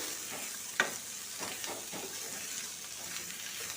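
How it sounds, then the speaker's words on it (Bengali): Bottle gourd peels frying and being stirred in a pan, with a steady broadband sizzle throughout and a few soft scraping strokes, one sharper click near the start; no talking. "লাউর খোসাগুলোকে দিয়ে ভেজে নেব।"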